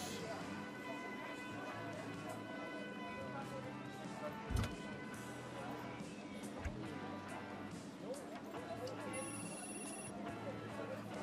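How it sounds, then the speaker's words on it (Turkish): A telephone rings repeatedly in the Food Truck Simulator video game, a steady electronic ringtone over game background sounds with a couple of brief thuds, while someone talks throughout. "Yani sürekli telefon sesleri geliyor."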